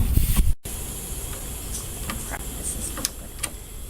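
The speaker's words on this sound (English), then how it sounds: "use the air compressor and blow a little bit out" Compressed air from an air compressor nozzle blows dust out of a Sears Craftsman sander in a short, loud hiss at the start, then cuts off, leaving quiet handling clicks and taps.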